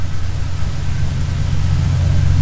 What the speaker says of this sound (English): Sorry about the train in the background there.